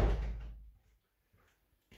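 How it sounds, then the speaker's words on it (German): A door slams shut loudly at the start in a joinery workshop, followed by a short decaying thud and near-silence with a couple of faint knocks afterward. "Die Tür musst du zuschlagen."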